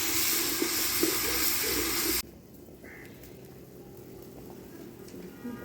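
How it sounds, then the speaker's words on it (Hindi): Water coming to a boil in a home kitchen pot before rice goes in for white chickpea pilaf: a loud, steady hissing bubble for about two seconds, then it cuts away to a much quieter, faint background. "पानी उबलना शुरू हो गया है।"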